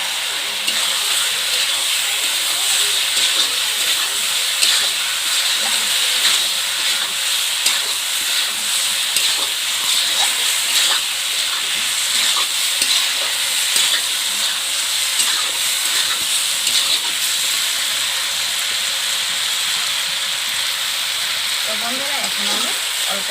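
Potatoes sautéing in a pan of village-style country chicken curry, a constant loud hiss and sizzle of hot oil with stirring scrapes running throughout, no talk over it.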